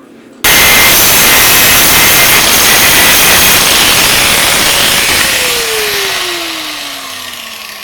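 A press for forming Kevlar helmets starts abruptly with a loud, steady roaring hum and high whine, running near and constant before a descending tone marks it slowing and fading slightly.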